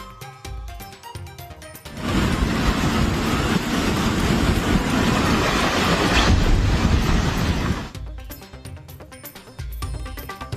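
A train rumbles past close by, loud and roaring for about six seconds with rhythmic wheel clatter, then fades back to quieter background noise.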